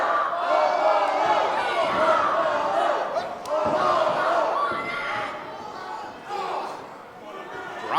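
Crowd noise at an indoor wrestling show in a community center, a steady roar of cheering and shouting that fills the whole clip with a few thuds from the ring, heard under continuous commentary.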